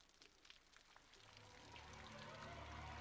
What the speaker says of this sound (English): Raining inside.